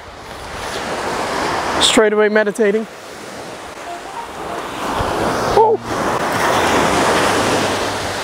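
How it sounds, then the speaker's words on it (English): Ocean surf rolls steadily onto a beach beside a horse, a constant loud wash of breaking waves with wind buffeting the microphone, while a person speaks briefly over it. "listen to the sound of the ocean"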